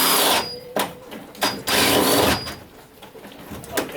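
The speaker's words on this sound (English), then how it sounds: "I'm gonna drill it out." A power drill bores out a stuck fastener on a classic wooden boat, its whirring motor running in several close, loud bursts separated by short pauses.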